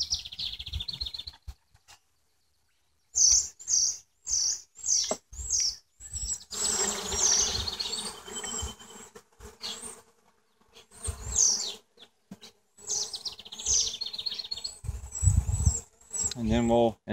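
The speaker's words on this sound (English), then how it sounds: "What I'm going to do now is shake these bees down in." Honey bees are shaken down into a queen banking colony, their buzzing loud and close in dense swelling bursts, with sharp bumps from the frames and short gaps between shakes.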